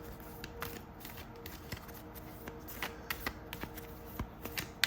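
Tarot cards shuffled by hand in a repeated run of soft, quick riffling and tapping bursts, close and fairly quiet, with no talking.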